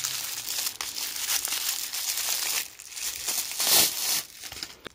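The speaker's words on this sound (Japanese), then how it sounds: "さらにラップでくるんでくれていますので、開封していきます" Plastic wrap is peeled off fig tree pruning branches, giving loud, close crinkling and crackling in irregular bursts for several seconds.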